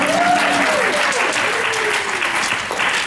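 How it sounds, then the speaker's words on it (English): An audience applauds at a Disney-themed talk, clapping steadily for a few seconds. A loud whistle-like gliding tone sounds at the start and a voice overlaps the clapping. "I want some applause for the laser."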